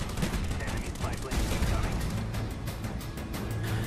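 AK-47 gunfire in a Call of Duty video game, a dense, continuous stream of rapid shots and bursts that stays loud throughout, with a voice talking faintly underneath.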